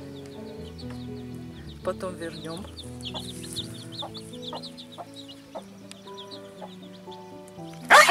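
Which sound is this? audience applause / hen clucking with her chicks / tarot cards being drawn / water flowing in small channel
hen clucking with her chicks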